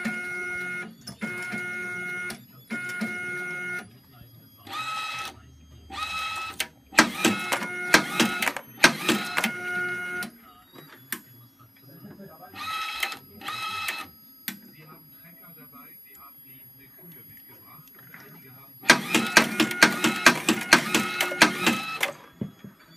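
Label applicator working with a Zebra ZE500 printer to apply self-adhesive labels to SD cards, giving loud repeated bursts of whirring and clattering machine cycles separated by brief pauses, with a quieter stretch in the middle and a dense final burst.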